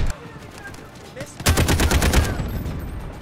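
An AKS-74 rifle in the video game Delta Force: Hawk Ops fires rapid, loud automatic bursts after a quieter stretch of faint game ambience and scattered distant shots.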